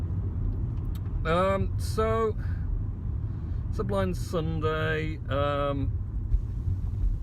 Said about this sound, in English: Sudden reduction in traffic.